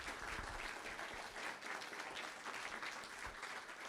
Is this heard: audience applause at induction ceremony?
yes